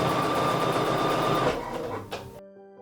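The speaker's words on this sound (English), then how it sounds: "as you're stitching, make sure you keep shifting the quilt forward" A sewing machine hums loud and close in a rapid steady whir as it stitches a quilt, then slows and stops with a brief clunk before near silence.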